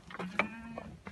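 A pedigree goat on a farm in Sanghar, Shahdadpur gives a short, wavering bleat, close and clear, lasting about a second.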